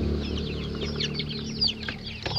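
Chickens cluck continuously inside a coop, a busy overlapping chatter of several birds close by, with a couple of sharper squawks near the end.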